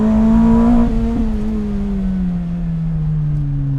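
A Lotus Elise R with a tuned 2-litre engine drones loudly from inside the car. A strong steady engine note first revs higher, then drops and settles into a lower cruising hum, with no one talking.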